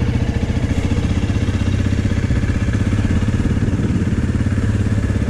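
A motorcycle runs steadily while riding through a neighborhood where houses are being built, with a continuous close engine drone and a rapid pulsing throb that never lets up.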